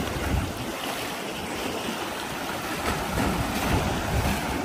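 Waves crash and wash continuously at Shek O Beach, Hong Kong, in a dense roar of surf, with wind buffeting the microphone and no voices.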